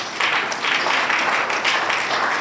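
An audience claps for a resource person at a bar association opening ceremony, a steady wash of applause from many hands that holds at the same level throughout.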